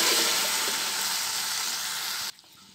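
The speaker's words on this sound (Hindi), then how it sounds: "सारा कुछ भून गया" Potatoes and peas sizzle steadily in a pan over low gas heat, a loud, even frying hiss with faint stirring clicks that cuts off abruptly near the end.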